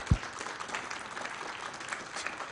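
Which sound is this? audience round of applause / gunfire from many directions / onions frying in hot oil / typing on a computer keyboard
audience round of applause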